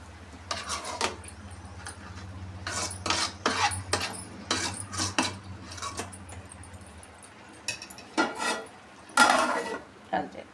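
A metal lid is set on a pot of chicken curry amid a run of clattering pot and utensil clanks, with repeated close metallic knocks and scrapes. A low hum sits beneath for the first part.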